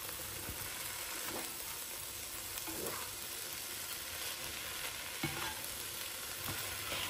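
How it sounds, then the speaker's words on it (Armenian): A mixture frying in a pan while being stirred, with a faint, continuous sizzle and soft, intermittent scraping strokes throughout. "2 րոպե այսպես տապակում եմ"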